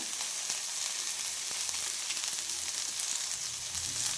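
Cumin seeds sizzle steadily in a pan over a low flame while an ivy gourd and mint chutney is being made, a close, even frying hiss with small crackles and no talk.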